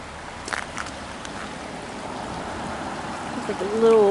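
Steady broadband wash of Deer Creek flowing past a little island in Emmerling Park, continuous and moderately loud, with a few faint tonal sounds near the end.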